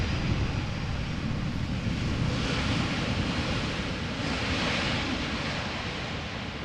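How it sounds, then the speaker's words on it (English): An airliner landing at Amsterdam Schiphol runs its thrust reversers at idle, a broad, steady roaring rush like wind, sustained and fairly distant, with no spool-up. "it sounds like idle reverse"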